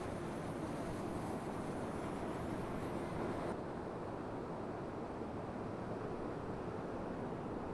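Wind blowing at the beach, a steady, broad roar of gusts buffeting the microphone, fairly faint and constant, with no voices.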